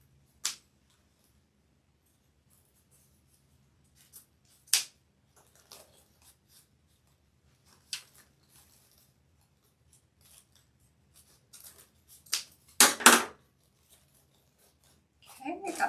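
Scissors snip white deco mesh for a Valentine's Day front-door wreath in a series of sharp, close cuts spread out at uneven intervals, with a quick cluster of snips near the end.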